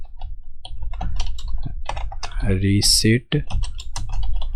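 Typing on a computer keyboard, a quick run of close, light key clicks in bursts, heard beneath someone talking for much of the time.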